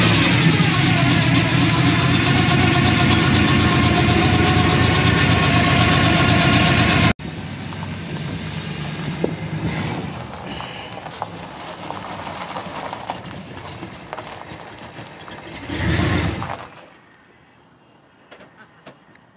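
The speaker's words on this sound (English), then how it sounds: "¿Cuándo han visto un turbo de estos?" A turbocharged engine runs with a loud, steady drone that cuts off abruptly about seven seconds in, leaving a quieter rough idle with scattered knocks and a brief surge before it fades.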